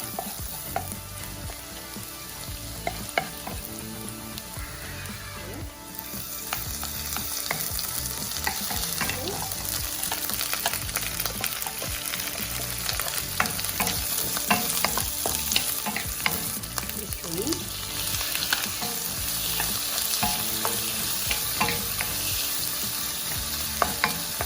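Minced garlic sizzles steadily in melted butter in a pan for buttered garlic shrimp pasta, a constant close crackle with occasional stirring scrapes and no talk.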